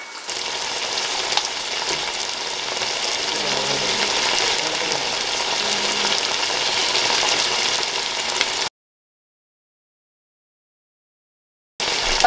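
Green chillies sautéing in a pan for biryani, a steady close frying hiss with faint stirring, broken by a few seconds of dead silence near the end.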